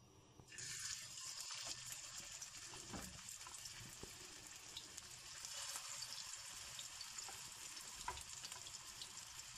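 Mutton chapli kababs sizzle and crackle as they drop into hot oil, a steady close frying hiss that keeps going throughout with no voices.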